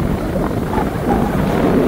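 Strong mountain-summit wind on Tarak Ridge, Mariveles, Bataan, buffets the microphone in a steady low rumble, loud and unbroken for a couple of seconds, with no voices.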